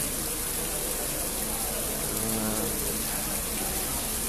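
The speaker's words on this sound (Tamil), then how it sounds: "மீண்டும் அடுத்த மழை ஒரு அரை மணி தேலமாக பெஞ்சிட்டு இருக்கு" Steady heavy rain pours down in Kilinochchi, a constant dense hiss of drops on surfaces that fills the whole scene without a break.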